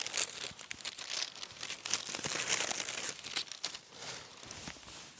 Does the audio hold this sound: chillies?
no